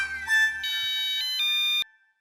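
A mobile phone ringtone plays a short, clear electronic melody of bright, sustained tones, fairly close. It cuts off abruptly just before the end.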